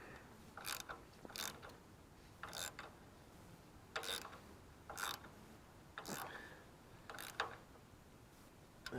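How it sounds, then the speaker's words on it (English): A hand ratchet clicks in short, quiet bursts while driving a bolt into the rear suspension of a Chevy C10 during a lowering job, with several separate strokes spaced a second or so apart. "I just switch over to the ratchet to finish driving it in."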